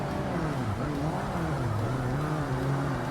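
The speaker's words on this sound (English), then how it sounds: "I fucking hit my rev limiter, god damn it." A race car engine in Forza Motorsport on Xbox holds a sustained high, buzzing drone with a slightly wavering pitch at the rev limiter, steady and loud throughout with no voices.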